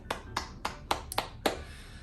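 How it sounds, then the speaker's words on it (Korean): Clapping during an online children's worship service, six sharp, separate hand claps spaced at a slow, fairly even pace, close and clear against a quiet background. "오늘 이 예배를 받으시는 하나님께 영광의 박수 올려드렸으면 좋겠습니다."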